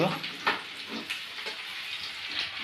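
Chopped onions fry in a pan for a cauliflower curry, giving a steady, close sizzle with occasional soft stirring knocks and a faint voice in the background.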